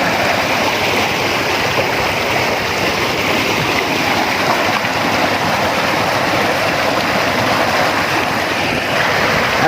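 Water streams steadily through an irrigation canal in Pakistani farmland, where it divides into smaller channels toward the fields. The flow makes a continuous, loud rushing wash with no pauses and no voices.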